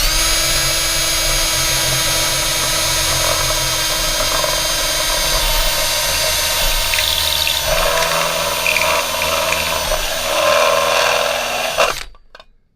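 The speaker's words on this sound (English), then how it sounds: "I'll just drill through the back" A power drill whines continuously as a step bit bores through a metal guitar pedal enclosure, the pitch shifting partway, then it stops abruptly at the end.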